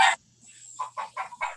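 A chicken clucks in the background at a seminar site, a short burst followed by a run of four distinct clucks, moderately loud over a quiet low hum.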